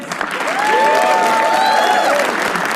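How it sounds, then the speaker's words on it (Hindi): A roast-show audience breaks into loud, close applause and cheering for an actor being introduced, dense clapping with whoops and shouts rising over it for a couple of seconds. "तालियां इनके लिए."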